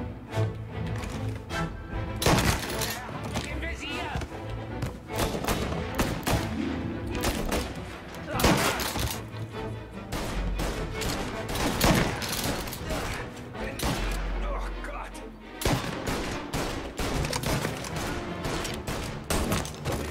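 Rapid gunfire bursts from a Mafia Definitive Edition shootout crackle repeatedly throughout, dense and loud over music, with a voice talking now and then.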